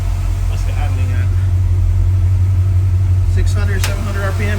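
A 1956 Chevrolet Bel Air engine idles steadily at low revs, a close, constant low hum with faint clicks and a short voice near the end.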